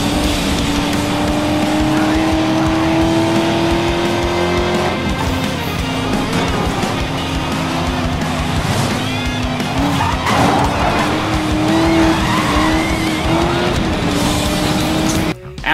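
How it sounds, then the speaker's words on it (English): Racing cars in Need for Speed Most Wanted roar with revving, gear-shifting engines while tires squeal through turns, a loud continuous blend of motor drone and skidding screeches. "from the unique engine sounds in every car, to the squealing of tires"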